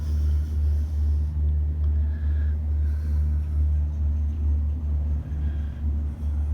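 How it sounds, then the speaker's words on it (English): A cable car crossing the River Thames gives a low, continuous rumbling hum from inside the cabin, with a few faint creaks over the steady drone. "as soon as the cable car started moving"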